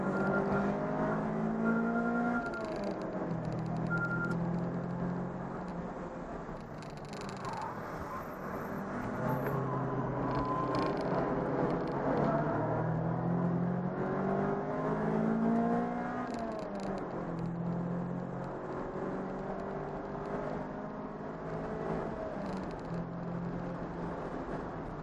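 Race cars in a racing video game roll through the pit lane at Hampton Downs, engines droning and whirring steadily throughout with shifting tones as several cars pass, fairly loud and continuous.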